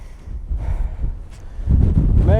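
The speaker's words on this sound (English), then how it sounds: "there's no shelter from the wind" Wind buffets a microphone on an exposed hilltop above the treetops, a loud low rumbling roar that gusts and grows stronger toward the end.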